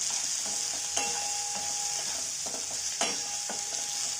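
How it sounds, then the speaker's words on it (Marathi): Garlic sizzles steadily in hot oil for brinjal bhaji, a constant bright frying hiss with a few scraping stirs of a spoon against the pan; no voices. "नंतर मी लसण घालते."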